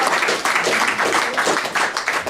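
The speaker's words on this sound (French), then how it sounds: "c'est bien sûr notre ami Jeannot, que je vous demande d'applaudir." Audience applause at an association gathering, steady dense clapping from a crowd that carries on without a break.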